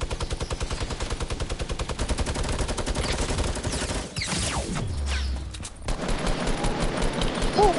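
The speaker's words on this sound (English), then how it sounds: "There's somebody on the roof! He's destroying you for minigun." Rapid, sustained minigun fire from a rooftop in a video game, a dense rattling burst that runs continuously, breaks off briefly midway, then resumes loud and close.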